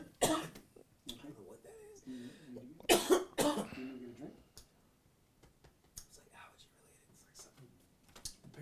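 A man coughs a few times, sharp close bursts breaking up his speech, with quieter talking in between.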